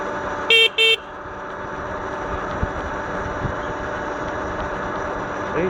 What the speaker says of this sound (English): See, sometimes I use the horn